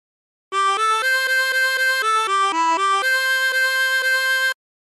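A chromatic harmonica plays the opening phrase of She'll Be Coming Round the Mountain, a bright, reedy melody of about a dozen separate notes with a few repeated tones, close and loud, with no voices.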